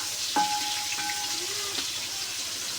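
Onions sautéing in a pan for beef curry give a soft, steady sizzle and hiss, with a couple of faint tonal squeaks over the frying.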